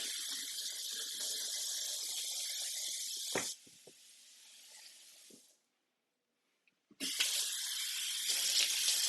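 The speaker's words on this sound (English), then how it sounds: "Rinse these off real quick." A kitchen faucet runs in a loud, steady gush while ribs are rinsed beneath it. The water cuts off, leaving a few seconds of near silence, then the tap gushes again.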